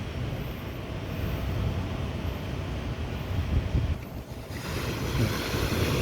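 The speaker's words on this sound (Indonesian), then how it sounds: "Ombak juga sangat besar sekali teman-teman" Large ocean waves off the coast near Pulau Mandeh, a constant low roar of surf mixed with heavy wind buffeting the microphone, loud and continuous with a brief dip before the rumble returns.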